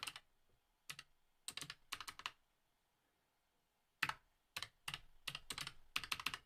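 Quick bursts of typing on a Raspberry Pi 500+ keyboard, clusters of crisp close keystrokes separated by pauses, with a longer quiet gap midway.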